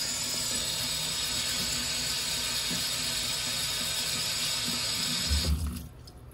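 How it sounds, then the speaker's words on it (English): Water runs continuously from a lab tap while a cryostat chuck is scrubbed with a bristle brush to clear OCT compound, a loud steady gush before the flow cuts off near the end. "make sure that you use a bristle brush to get in the grooves, in addition to water, to scrub all of the excess OCT out"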